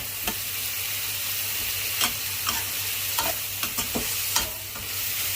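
Liver stir-frying in a pan over high heat, with a steady loud sizzle and repeated scraping strokes of a spatula, and no talking.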